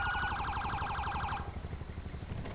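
A wailing ambulance siren from the video game GTA 5 cycles loudly and rapidly for about a second and a half, then cuts off and leaves steady low engine rumble and traffic noise.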